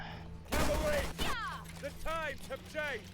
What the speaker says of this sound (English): So their second ability is basically a volley fire